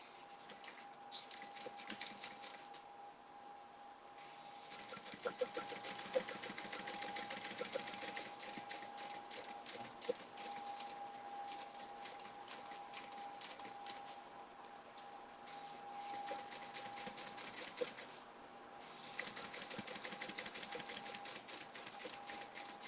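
Top stitching on a tote bag, the sewing machine hums and clatters steadily up close, in long runs broken by brief pauses, with no voices.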